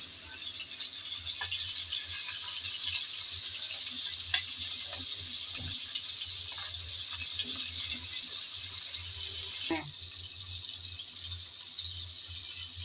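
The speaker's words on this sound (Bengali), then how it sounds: "তেল হালকা গরম হয়ে যাওয়ার পর চিংড়িগুলো আমি দিয়ে দিচ্ছি এক এক করে" Shrimp frying one by one in lightly heated oil in a pan gives a steady, fairly quiet sizzle with faint scattered pops and clinks running throughout.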